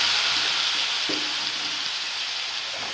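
A curry simmering in a pan hisses and sizzles loudly as a little water hits the hot oil, a close, continuous frying roar with a faint bubbling undertone and no talking.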